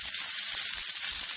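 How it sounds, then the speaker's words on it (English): Olive oil spread in a hot pan with a wet silicone brush sizzles steadily, a bright, close crackling hiss with no talking. "The reason why it's sizzling is because the silicone brush has a little water in it."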